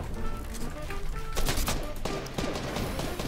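Gunfire in the video game Fortnite: a few sharp, loud shots burst out in quick succession over a steady game background, with no one talking.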